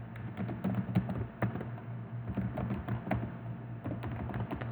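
Keys clatter in quick, uneven bursts as an admin user ID and password are typed on a computer keyboard, close and fairly soft over a steady low hum.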